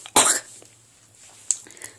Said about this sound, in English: So I'll have a cough